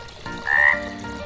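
A single frog croaks once, a short, loud, close rasping call standing alone against a quiet background.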